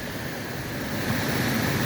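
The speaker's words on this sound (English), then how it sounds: "And all kinds of little waterfalls" Small waterfalls spill down a large pegmatite and granite bedrock ledge near Georgiana and Harvard Falls in New Hampshire, a steady broadband rush of falling water that swells slightly louder midway.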